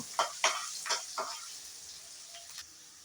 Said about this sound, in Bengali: ক্যাপসিকামটাকেও একটু ভেজে নেব